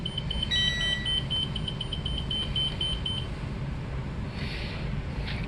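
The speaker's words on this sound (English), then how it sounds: "Just turn the ignition on so you can hear all the beeping and noises around us." A 2020 Seneca 37K motorhome's dashboard beeps steadily after the ignition is switched on, a rapid regular series of electronic tones over a constant low engine-like rumble, then stops.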